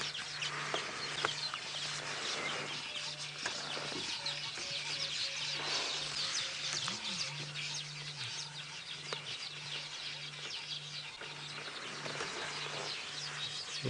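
Weaver birds calling around their nests in a tree on an evening safari drive, a busy chorus of chattering and buzzy calls with a steady low hum beneath, continuous and moderately distant.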